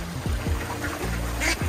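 Ducks quack repeatedly in short nasal bursts, several calls overlapping close by over steady outdoor background noise at a wetland preserve pond in Gilbert, Arizona.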